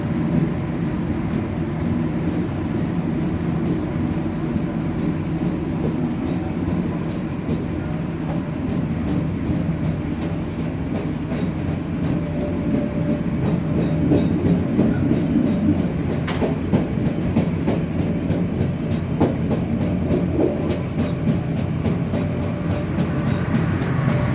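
Steady rumble and rhythmic clatter of wheels heard from inside the last carriage of the KA Joglosemarkerto passenger train on the run from Kebumen to Tegal, continuous and fairly loud with occasional sharper clicks.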